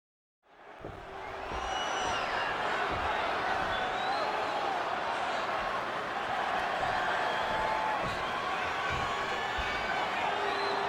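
A wrestling arena crowd in the WWE 2K26 video game cheers and roars continuously, a dense loud wash of cheering that swells in and holds steady throughout.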